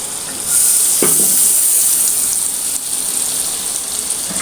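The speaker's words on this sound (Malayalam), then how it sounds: "ആ എണ്ണ തന്നെ ഒന്ന് നമുക്ക് ഇതിലേക്ക് കുറച്ച് ഒഴിച്ചു കൊടുക്കാം" Oil poured into a hot pan for stuffed paratha filling sizzles loudly in a dense, hissing crackle that swells up and holds steady, close by, with a brief clink of utensil early on and no talk.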